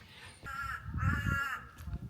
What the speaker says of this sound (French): Ce n'est pas parce que nous sommes en Thaïlande qu'il n'y a pas de corbeaux, et non.